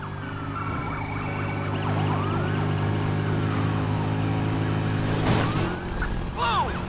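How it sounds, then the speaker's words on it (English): A police siren wails in repeated rising and falling sweeps over a steady engine drone in the video game Need for Speed Heat, ending with a short burst of crashing noise. "Flip on the sirens and get after them."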